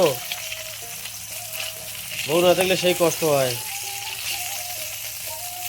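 Steady sizzle of fish frying in a pan crackles throughout, with someone speaking briefly over it in the middle.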